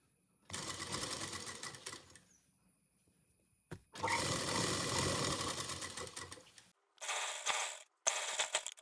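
A sewing machine stitches the main fabric of a child's dress in four loud, close bursts of whirring, ratcheting motor noise, with short silent pauses between runs.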